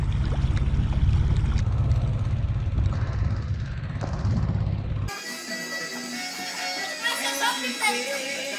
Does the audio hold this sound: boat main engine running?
yes